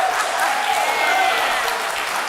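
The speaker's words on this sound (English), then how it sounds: "They clap when you say it." Studio audience at a San Diego talk show applauds steadily, a dense, even wash of clapping that holds throughout.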